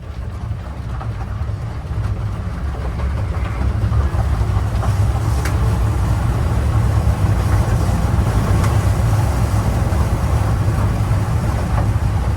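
An E-Story car from MLT with an automatic gearbox pulling away onto a countryside drive, a steady loud low engine and road rumble that swells slightly as it gets going, with faint ticks over the drone.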